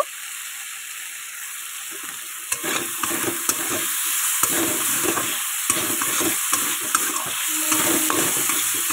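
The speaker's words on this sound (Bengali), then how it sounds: "দেখো দেখো আমার চিংড়ি মাছগুলো অবশ্য ভাজা ভাজা ভাব হয়ে গেছে অলরেডি" Prawns fry in a pan with a steady sizzle, while repeated stirring scrapes and clicks break in over the second half, loud and close with no talk.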